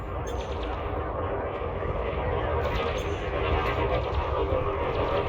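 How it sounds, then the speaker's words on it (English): Area-of-effect flak weapon fire in the space combat game Elite Dangerous, a dense continuous rumbling barrage of bursts over an engine hum, with someone talking over it. "I don't know what he's getting shot with, but that's an area of effect weapon."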